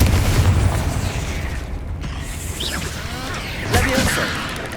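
Confringo fire spell exploding in the Hogwarts Legacy video game, a burst of booming blasts and crackling debris with a second impact near the end, loud and close over game background sounds.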